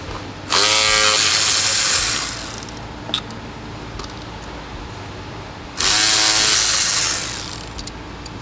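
A quarter-inch ratchet with a 2-inch extension and T30 bit works on a 2013 Beetle during a water pump and oil cooler job, giving two loud, rapid buzzing ratchet runs of about two seconds each, with quiet clicks between them.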